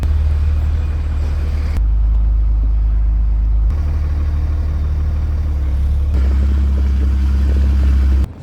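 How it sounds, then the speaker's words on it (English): Cars and engines rumble steadily through a swap meet parking lot as vehicles drive out, a loud, continuous low drone with shifting engine tones and no talking. "Traffic on the way out."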